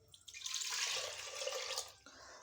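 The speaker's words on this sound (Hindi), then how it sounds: "अब आटे के बीच डालेंगे पानी।" Water pours into flour in a bowl to make dough, a soft splashing trickle that starts after a quiet moment, runs steadily for over a second, then stops, close but faint.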